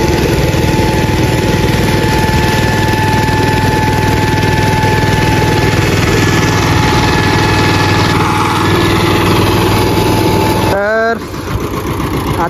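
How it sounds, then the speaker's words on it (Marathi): A tractor engine runs steadily while the tractor is stuck in mud in a field, a loud continuous drone with a sustained tone throughout and a brief change near the end. "आता आमचं ट्रॅक्टर अडकलो आहे चिखलात."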